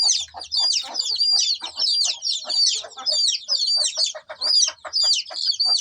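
Chickens, being given a booster dose of eye-drop vaccine in the left eye for Ranikhet disease, cluck and squawk in a continuous, close, busy chatter of repeated calls with no talk.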